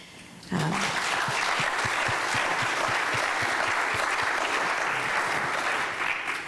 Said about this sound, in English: Before we launch into questions, I think we should just applaud your work.